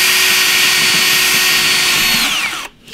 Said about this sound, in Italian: La punta lavorando farà il buco in maniera molto facile.